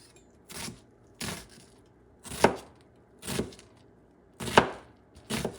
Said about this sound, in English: You just want to chop it